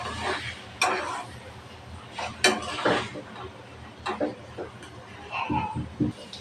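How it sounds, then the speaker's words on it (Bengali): Spice paste for a prawn curry being stirred and fried in a pan with a little water, scattered scraping and clinking of a utensil against the pan over a soft background, with some quiet voice in places. "মশলাটা ভালোভাবে কষাবো।"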